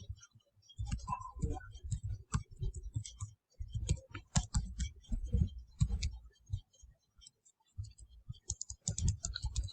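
Someone types a C program for a two-dimensional array on a computer keyboard, with close, quiet key clicks coming in uneven bursts and short pauses between them.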